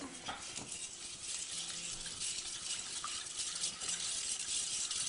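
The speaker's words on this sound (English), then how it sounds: "And you stir that up real quick." A spoon stirs a whole wheat bread mixture with salt in a bowl, giving a soft, continuous scraping and swishing that stays fairly faint and close.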